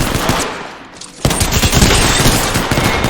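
Rapid bursts of gunfire from the battle royale shooter Apex Legends, loud and dense with overlapping shots, easing briefly before a fresh barrage cuts back in sharply and continues.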